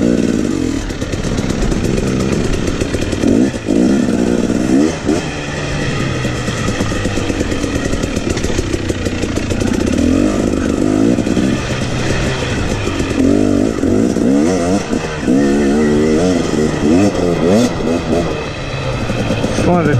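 A two-stroke dirt bike engine buzzes loud and close on an off-road trail, rising and falling in raspy revs throughout, with someone talking over it.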